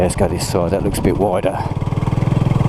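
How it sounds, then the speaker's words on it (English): A Honda CB250RS motorcycle engine idles and then revs in rapid pulsing bursts, near and loud, with someone talking over the start. "Let's get those revs up."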